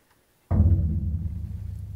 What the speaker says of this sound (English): the concert bass drum, which sounds something like this.